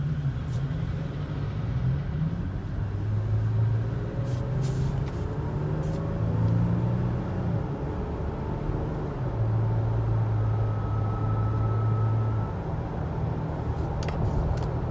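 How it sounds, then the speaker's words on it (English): Steady cabin noise inside a 2020 Toyota Tacoma TRD Sport on the road, with a constant broadband rush of wind and tires blended with a low engine drone, moderately loud and continuous with no speech. "I hear a little bit of wind noise, but it's not much at all"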